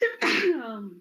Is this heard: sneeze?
yes